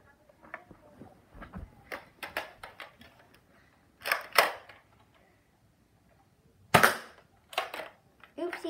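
A Nerf gun firing foam darts: a series of sharp dry clicks and pops at irregular intervals, some in quick pairs, close and fairly quiet with stretches of silence between.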